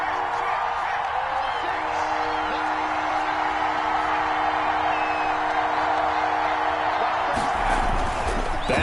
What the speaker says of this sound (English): this crowd urging on their defense